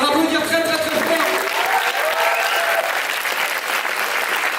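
An audience applauds loudly after a live stage show, a thick continuous roar of clapping hands with a few voices rising through it, steady from start to finish.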